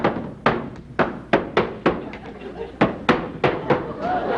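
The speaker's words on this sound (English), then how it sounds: "I was hitting the drum here" A drum on a comedy TV stage is struck about a dozen times in a loose, uneven rhythm, each hit a sharp, close thump with a short decay.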